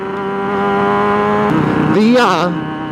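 A voice imitates a motorcycle engine the way children do at play, a steady buzzing drone that climbs into a warbling rev and falls back, loud and close.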